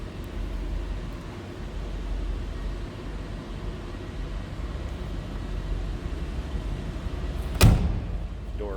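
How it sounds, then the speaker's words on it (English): A 1962 Ford Thunderbird two-door hardtop door swings shut with one solid, close thud late in the recording, after a steady background hiss. "Door closes nicely."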